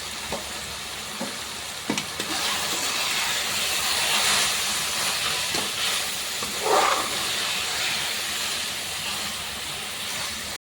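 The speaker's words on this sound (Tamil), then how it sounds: "போட்டுட்டு இங்கே நம்ம நல்லா வதக்கிறோம்" Tomatoes sautéing in a pan for a soya chunk side dish give a steady, close hiss and sizzle throughout, with a few light stirring scrapes.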